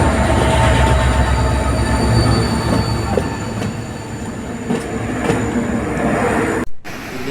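A train rumbles past close by near Dudhsagar falls, a loud continuous roar of wheels on rails with clanking and metallic squeals, ending in a brief sharp gap.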